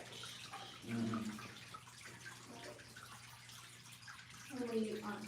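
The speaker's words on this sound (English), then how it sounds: "it's got a little lever in there, and when it's low, it pumps the water in" A farm water tank refills through a float-switch pump, making a steady, faint rush of running water over a low constant hum, with soft splashy swells.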